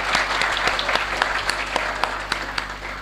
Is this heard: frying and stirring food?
no